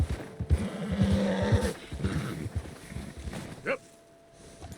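Horse whinnying in Red Dead Redemption 2 on an icy outdoor path, a short high neigh near the end following soft hoof and movement sounds, with someone talking over the earlier part.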